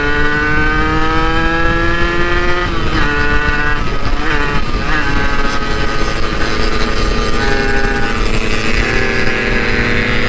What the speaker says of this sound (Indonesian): Motornya Ferry nggak begitu sehat soalnya dia